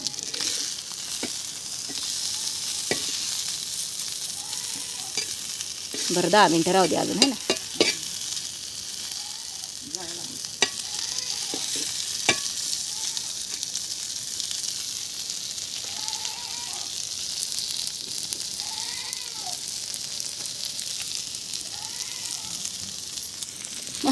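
Fish fries in a pan on a wood-fired clay stove with a constant close sizzle, a louder bubbling burst, and occasional clinks and scrapes, while a person briefly speaks.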